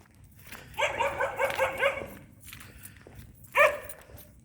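A dog barks in a quick run of four or five harmonic yaps, then pauses and gives one more sharp bark, fairly close by.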